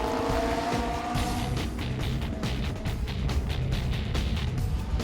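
Supercars at a speedway launching at the start of an eight-lap heat, a dense, constant engine roar with layered rising and falling revs from several cars, loud and unbroken from beginning to end.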